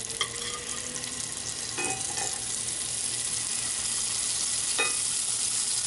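Delicate sea robin fillets sizzle in browned butter and garlic in a hot pan, a steady close hiss with a few brief clatters as they go in, no speech.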